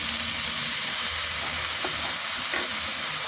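Potatoes drop into hot oil with frying ginger, a steady loud sizzle and hiss with a few light stirring knocks, no voices.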